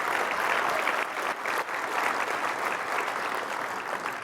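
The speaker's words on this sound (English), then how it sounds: "Let's give her another round of applause" Audience at a leadership summit on homelessness gives a round of applause, dense steady clapping from a large crowd lasting several seconds.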